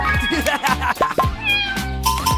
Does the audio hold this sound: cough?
no